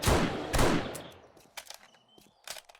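Marksman rifle shots from 7 Days To Die Alpha 19, two loud reports close together followed by sharper, quieter shots and faint rattles, with no talking.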